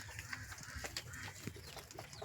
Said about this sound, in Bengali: আমার কবুতরও আছে, আরো বড় বড় মুরগিও আছে।